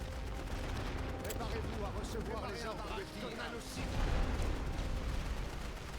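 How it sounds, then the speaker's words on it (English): An artillery barrage rumbles across a World War I battlefield in The Great War: Western Front, with continuous low booms and scattered shell bursts under a voice talking. "We've got some light artillery coming at us, and I've got heavy artillery hitting them out in the open here."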